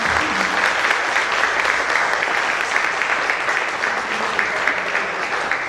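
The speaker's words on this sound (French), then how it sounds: "On peut les applaudir encore" A theatre audience at a university drama performance applauds the camera crew, a dense, steady wash of clapping from many hands that fills the room evenly for several seconds without a break.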